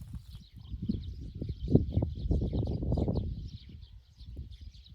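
Birds chirp and twitter steadily in rural open country in Akmola Region, Kazakhstan, a continuous thin chorus over a louder low rumble of wind or handling noise.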